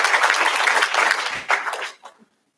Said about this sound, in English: yeah, we can applaud that